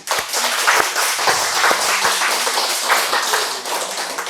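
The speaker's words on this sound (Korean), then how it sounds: "박수 한번 보내십시오" An audience at a Buddhist lecture claps together, a close, dense round of applause with a few sharper individual claps that holds steady throughout.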